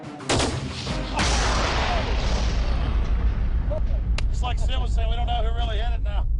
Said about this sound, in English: it's a tannerite charge. It should give us a pretty good boom